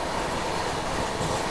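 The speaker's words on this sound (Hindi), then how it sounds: "देखो अभी सामने से आ रही है सेंट्रल रेलवे की मुंबई राजधानी एक्सप्रेस" The Central Railway Mumbai Rajdhani Express (22221) rushing past at close range, a loud, dense, continuous roar of wheels and carriages with no break.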